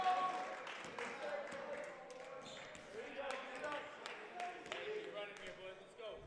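Spectators cheer and clap after a big point at a men's college volleyball match against Elmira. The crowd noise is steady and fairly distant, with sharp claps and squeaks scattered throughout and a commentator's voice over it.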